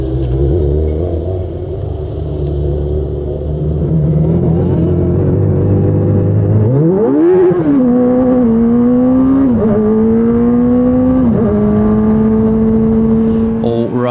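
A race car's engine pulls hard through a night qualifying lap, heard close from on board: a low rumble climbs into a sharp rev, then the pitch steps and slides with each gear change and throttle lift.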